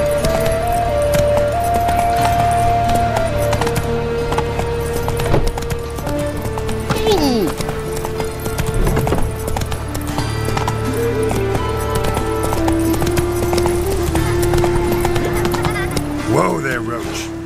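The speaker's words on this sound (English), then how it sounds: "Whoa there, Roach." Horse hooves clip-clop in The Witcher 3: Wild Hunt, a steady trotting rhythm over game music, with whinnies and voices talking over it.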